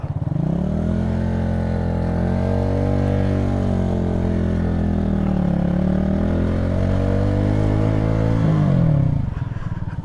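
A motorcycle rides through New York City streets between Washington Heights and the Bronx, its engine droning steadily up close with rising and falling revs and a rev surge near the end.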